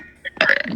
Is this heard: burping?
yes